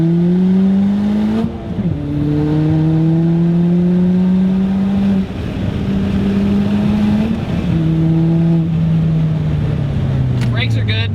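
A big-turbo Ford Fiesta ST hot hatch accelerates hard and close, its engine note climbing in repeated pulls through several gear changes, loud and steady throughout.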